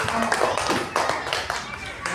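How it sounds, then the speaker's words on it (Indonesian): A school class claps for a student, a short burst of quick, uneven hand claps close to the listener, with voices talking over it. "Tepuk tangan untuk kamu."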